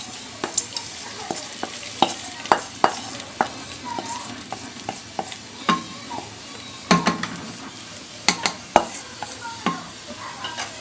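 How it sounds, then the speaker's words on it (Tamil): A spoon stirs tempered cashews into pongal in a pot, giving an irregular run of scraping, tapping strokes over a soft sizzle, close and moderately loud with no talking. "இப்போ நம்ம இப்போ தாளிச்ச இந்த முந்திரி எல்லாத்தையும் இதில் சேர்த்துக்கலாம்."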